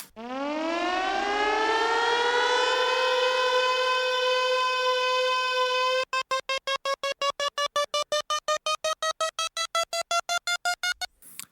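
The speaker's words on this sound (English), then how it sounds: "So that is a cool little siren rise." A loud siren winds up steadily from low to a high sustained wail, then breaks into a rapid pulsing on-off pattern before stopping.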